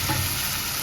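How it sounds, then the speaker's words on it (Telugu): Browned onion pieces with freshly added country tomatoes sizzle in a pan while being stirred for paneer biryani, a brief, steady close-up fry with no talking. "ఉల్లిపాయ ముక్కలు బాగా ఎర్రగా వేగిపోయి ఇప్పుడు టమాటోలు వేసి కొంచెం మెత్తబడేలాగా"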